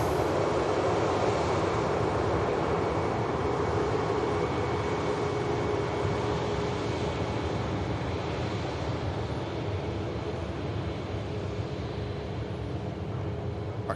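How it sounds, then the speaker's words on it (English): An airliner coming in to land at Manchester Airport gives a continuous, even jet roar with a faint whine on top, loud and sustained throughout, with no voices. "Next aircraft to land."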